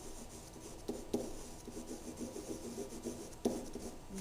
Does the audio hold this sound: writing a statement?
yes